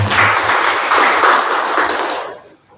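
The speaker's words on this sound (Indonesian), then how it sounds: "kita berikan tepuk tangan yang meriah untuk Pak Yohanes" Lively clapping from an audience at a Pi Network community forum in Purworejo honors a speaker, a dense, loud burst that holds steady and then fades away toward the end.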